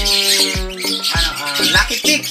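A hand-raised, imprinted pet bird squawks in a rapid string of harsh, close calls, several sharp cries following one another over a couple of seconds.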